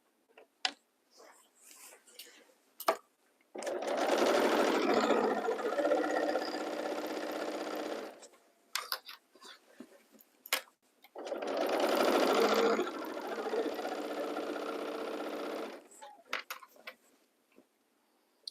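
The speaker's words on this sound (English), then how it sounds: "my first step is going to be to actually sew my crotch curve together" A domestic sewing machine stitches the crotch curve seam of a romper in two long steady runs of several seconds each, separated by pauses with light clicks and handling noises, close and clear.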